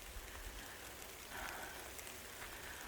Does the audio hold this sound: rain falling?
yes